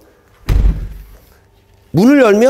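Door of a 4th-generation Range Rover thudding once as it is worked, a solid close-range knock, followed by someone talking.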